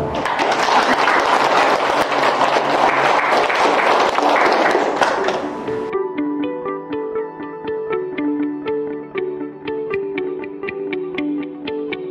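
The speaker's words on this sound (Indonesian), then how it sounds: "Tepuk tangan." Loud, dense applause fills a doctoral promotion ceremony at UIN SMHB for about six seconds, then stops abruptly and gives way to steady tonal music.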